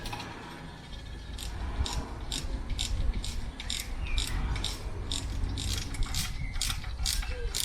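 Spanners ratchet on nuts of a BMC A-Series engine during head gasket work, giving repeated sharp metallic clicks in short, steady bursts close to the microphone over a low background hum.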